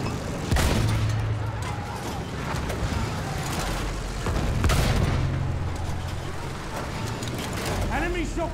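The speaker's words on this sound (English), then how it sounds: "There's so much people shooting at us over here." Battlefield 1 conquest battle with dense gunfire: repeated shots and sharp bangs over a rumbling battlefield din, vehicles and mechanical noise mixed in, with voices speaking through it.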